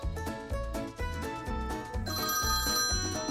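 A phone ringtone plays in a repeating, rhythmic electronic pattern, loud and close, with no talk over it.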